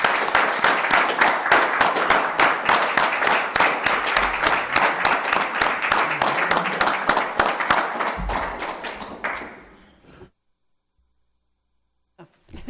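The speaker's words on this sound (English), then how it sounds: "let's have some applause for our candidates" An audience at a mayoral candidates' forum gives sustained, dense applause that holds steady for about nine seconds, then thins and fades into silence.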